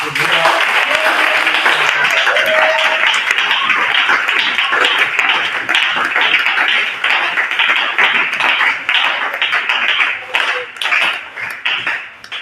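A church congregation claps together in steady, dense applause that keeps going without a break, loud and close, with some voices calling out over the clapping.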